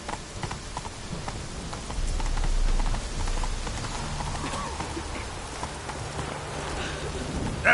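Roach, the horse in The Witcher 3, clip-clops along with steady, close hoofbeats under a wash of rain, with a low rumble swelling briefly partway through.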